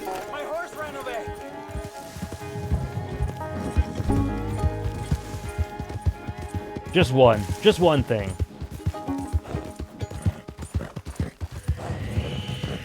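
Rhythmic clip-clop of a horse's hooves running beneath Red Dead Redemption 2's game music and chatter, with a brief whinny partway through.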